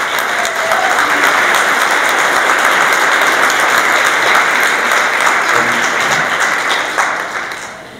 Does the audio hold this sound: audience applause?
yes